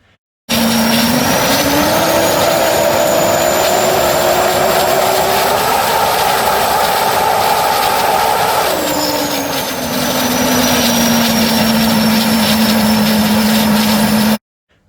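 A home-made 12/118 gas turbine engine roars loudly and continuously, its whine climbing early on, dipping briefly near the middle and holding a steady high-pitched drone until it cuts off.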